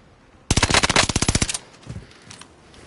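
Burst of automatic gunfire in a shooter video game, about a second of rapid, evenly spaced loud shots starting abruptly, followed by a quieter tail of faint game noise.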